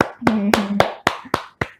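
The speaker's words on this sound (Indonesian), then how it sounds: "Tepuk tangan semuanya." Hands clapping in a few separate, sharp, close claps, about six in quick succession, with a brief hum under the first half.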